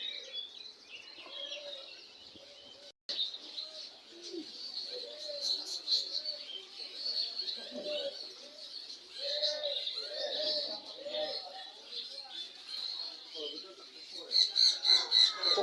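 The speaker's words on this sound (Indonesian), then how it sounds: "Oke, sekarang saya berada di Pasar Burung Pramuka." Many caged birds at the Pramuka bird market in Jakarta, including turtledoves, coo and chirp in a busy mix of calls, with a voice speaking at times over the steady chatter.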